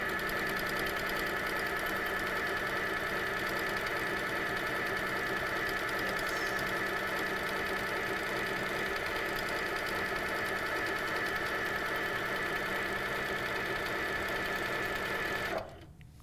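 An HQ Sweet Sixteen quilting sewing machine runs steadily with its top thread pulled out of the tension discs, giving a constant whirring, rattling stitch drone for about fifteen seconds before it abruptly stops.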